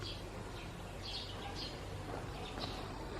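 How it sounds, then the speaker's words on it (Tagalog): Birds chirping at a quiet provincial house, with faint, scattered high tweets and calls over a steady low background hum, fairly distant and soft. "ang sarap kasi maririnig mo mga ibon"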